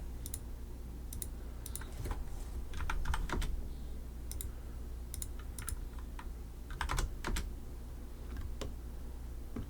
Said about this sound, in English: Just typing numbers in until it looks right to me.